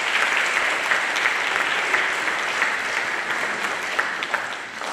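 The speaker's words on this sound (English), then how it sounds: "Please give her a round of applause." An audience at a spring school band concert in an auditorium claps steadily for about five seconds, a dense, even wash of applause that stays loud throughout.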